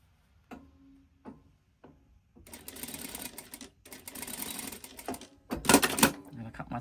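A sewing machine stitching a diagonal seam across a quilt block, a few short taps and then bursts of rapid mechanical whirring that grow louder near the end, with no talking.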